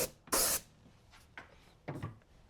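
Short hissing bursts from a spray can coating a Kyosho Dune Master RC car body in orange paint: one long loud burst, then a few quieter shorter puffs, close up with no talking.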